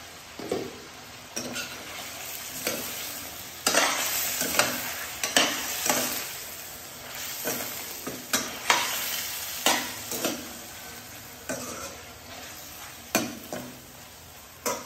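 Vegetables frying in a covered pan, with a steady sizzle underneath and a long series of rhythmic scraping stirs at fairly regular intervals, close and moderately loud.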